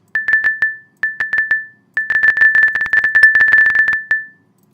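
Tornado warning alert tone set up for a storm stream, a loud steady electronic beep pulsing in rapid bursts, first a few short groups, then a long dense stretch of quick pulses before stopping, with no talking.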